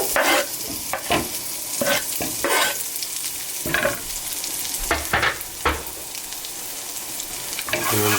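Garlic fries in a pan over medium heat with a steady sizzle, while a utensil scrapes and stirs in repeated sharp bursts close by.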